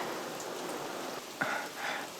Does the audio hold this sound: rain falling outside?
yes